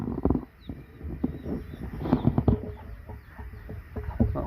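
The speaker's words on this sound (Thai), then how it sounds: "เป็นไก่เตี้ย" A small bantam chicken clucks in short, soft bursts nearby, with faint outdoor background noise.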